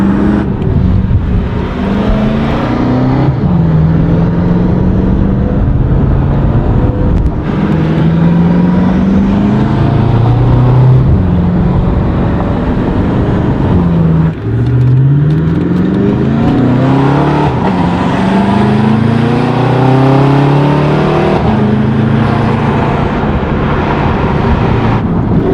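A BMW F10 M5 on a 1000 hp build with a Clutchmasters 10-spring flywheel, running driven racing oil, revs repeatedly in short throttle-limited pulls; a loud close engine note rises and falls over and over with no talking.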